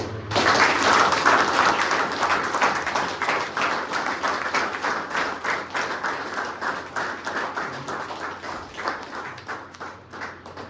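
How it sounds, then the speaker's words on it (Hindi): Audience giving loud applause at a recovery birthday gathering, dense clapping that starts strong then thins into a rhythmic, slightly slower patter before fading. "इंग्लिश में जोरदार ताली"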